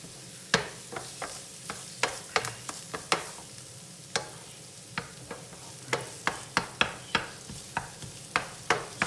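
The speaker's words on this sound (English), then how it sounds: "As you can see, it's sizzling a bit." Onions sizzling in a frying pan, a soft background hiss punctuated by frequent sharp spatula clicks and taps at an irregular rhythm, close and moderately quiet, with no talk.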